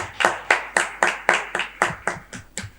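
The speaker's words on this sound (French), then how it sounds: "applaudissez pour vous quand même" A small audience of women claps at a political youth rally in Benin, about ten sharp, separate claps in a steady rhythm that thin out and soften toward the end, with no talking over them.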